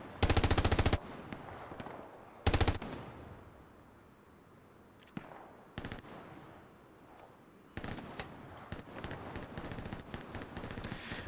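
Machine gun fire in a console World War II shooter: several sharp rapid bursts, some near and loud, others shorter and more distant, separated by quieter stretches of background battle.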